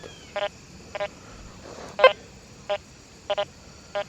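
A Deus 2 metal detector with an HF2 coil gives short repeated electronic tones as it sweeps diagonally over nails. Six or seven brief beeps come at uneven intervals over a steady hiss, close and clear, with no talk.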